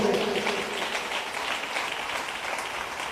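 Congregation applauding at a Catholic sermon, a steady broadband wash of clapping that holds fairly loud across the whole stretch, with a brief voice near the start.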